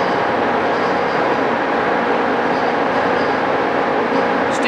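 A Giddings & Lewis horizontal boring mill with a 4-inch spindle runs steadily, giving a loud, constant mechanical hum and whir that stays unchanged throughout.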